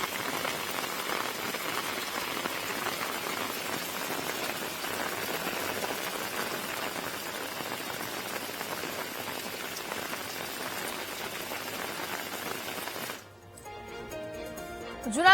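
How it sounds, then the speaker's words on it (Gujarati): Steady rain falls in Keshod taluka of Junagadh district, a continuous dense hiss of drops on surfaces that holds for about thirteen seconds before cutting to quieter sound with a few faint tonal notes near the end. "કેશોદ તાલુકામાં વહેલી સવારથી જ વરસાદ વરસી રહ્યો છે."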